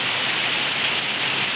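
Heavy rain falling outdoors on trees, a dense, loud, steady roar of downpour with no pauses and no voices.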